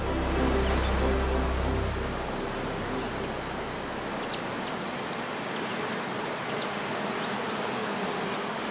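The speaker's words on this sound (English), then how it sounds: "bees collect pollen from mountain flowers." Bees gathering pollen from mountain flowers in alpine pastures of the upper Inntal valley; a dense, steady insect buzz fills the scene, with a low rumble fading out early and a few louder passing buzzes.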